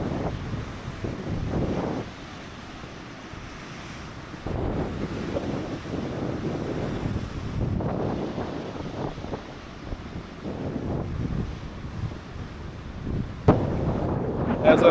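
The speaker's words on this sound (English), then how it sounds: "Look at the power of those waves." Powerful ocean waves crash and surge at Cape Spear as strong wind buffets the microphone, giving a heavy, rumbling roar that swells and fades in irregular gusts.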